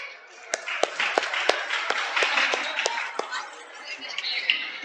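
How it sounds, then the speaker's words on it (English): Audience clapping at an Independence Day event, scattered distinct claps over a diffuse murmur of hands, moderately loud and fairly close. "a huge clap for this"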